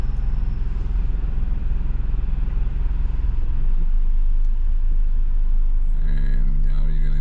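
A car reversing out of a parking space during a Florida driving test, a steady low engine hum and road rumble heard from inside the cabin, with a voice speaking near the end.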